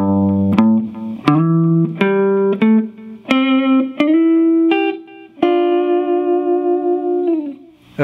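An electric guitar plays Memphis soul licks very slowly, a sequence of single notes and a few slides moving up the neck, each ringing with a touch of reverb before the last note sustains, close and alone.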